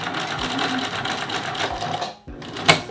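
A vintage Singer sewing machine fitted with a buttonholer attachment runs in a steady, close, loud mechanical whir, stops briefly, then gives a sharp clack as it starts up again.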